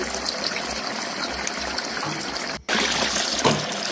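Water runs steadily from a tap while a mixer grinder jar is rinsed during appam batter preparation, a continuous close trickle and splash with a brief break near the end.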